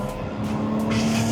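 Car speeding past on the Nürburgring race track, a brief loud engine roar rising as it passes close by.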